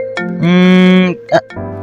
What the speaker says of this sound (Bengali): কে যে অসময়ে ফোন করে